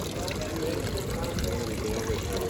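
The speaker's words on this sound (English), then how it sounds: "this little water fountain here looks fantastic" A small water fountain in Rhodes Old Town trickles and splashes steadily close by, a continuous bright wash of running water with outdoor ambience and no pauses.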